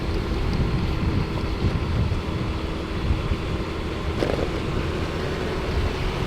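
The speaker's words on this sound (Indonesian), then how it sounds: "Ini anginnya makin kesini makin kenceng nih." Strong wind batters the microphone outdoors, a continuous heavy low rumble with gusting surges filling the whole stretch, loud and alone without speech.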